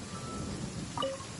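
Steady rain falls in Genshin Impact as an even, hissing wash with a faint clink partway through, and no voices.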